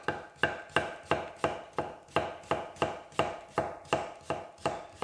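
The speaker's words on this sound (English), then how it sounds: "So I'm chopping the cucumber up." A knife chops through cucumber on a board for a cacik yogurt and mint dip, about a dozen evenly spaced sharp cuts in a steady rhythm, close and clear with no talking.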